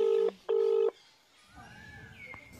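Electronic telephone tones sound as a call is placed: two loud, steady beeps, then quieter tones and faint background noise, in a Tamil suspense drama scene.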